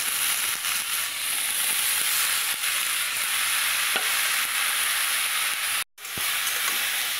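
Radish pieces frying with black cumin and green chili in a pan, a steady loud sizzle and hiss that runs nearly unbroken, with faint stirring scrapes and a brief dropout near the end.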